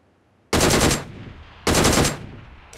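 Two short, loud bursts of DP-28 machine gun fire from a crouched position in BGMI, each burst lasting about half a second with rapid close shots, separated by a short pause.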